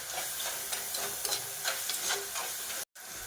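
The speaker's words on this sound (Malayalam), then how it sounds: "നമുക്ക് നന്നായിട്ട് മിക്സ് ചെയ്ത് കൊടുക്കാം." Tomato and spices fry in a pan for a fish curry while a spoon stirs them, making steady sizzling broken by repeated scraping strokes, with a brief silent gap near the end.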